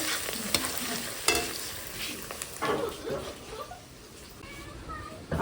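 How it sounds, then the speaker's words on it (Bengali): Onions fry in a pan with a soft, steady sizzle, a few sharp scrapes and clinks of stirring breaking through the hiss. "এই যে পেঁয়াজ ভাজা চলছে"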